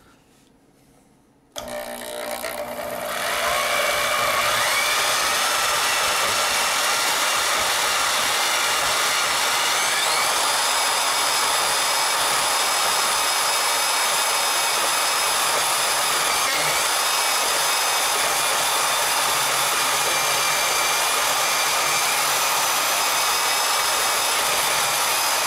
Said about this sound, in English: This saw blade's about toast, it's bucking around pretty good.